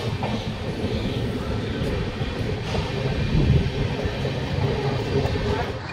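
A Patna–Howrah Jan Shatabdi Express pulls out of Madhupur Junction, heard from inside a 2S class coach as a continuous loud rumble with wheel clatter and wind rushing past, slowly building, with no talk.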